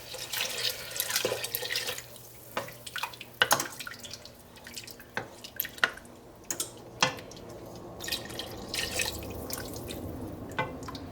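Milk poured into a pot for clam chowder in a home kitchen, a soft liquid splashing and trickling with scattered drips, fairly quiet and close, with no talking.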